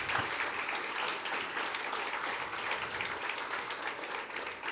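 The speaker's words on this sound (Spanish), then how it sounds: "¿Cuánto le dan una ofrenda de aplausos al Señor?" A church congregation breaks into sustained, dense applause that fills the space evenly throughout, loud and continuous, with no spoken voice over it.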